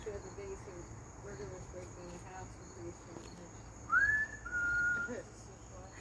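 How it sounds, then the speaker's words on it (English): A pet bird whistles a clear, rising note followed by a long steady tone, fairly close, over faint background hiss and insect-like buzzing. "Whistling bird, it also talks."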